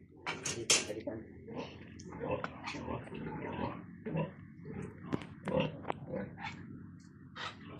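Pigs on a small Philippine farm grunt and snort in a string of short, uneven bursts at close range, joined by knocks and shuffling in the pen over a steady low background.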